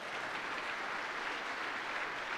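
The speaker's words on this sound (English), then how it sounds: "let's round of applause for that" Audience at a Hall of Fame induction ceremony applauding, a continuous, even roar of many hands clapping at a steady level for the whole stretch.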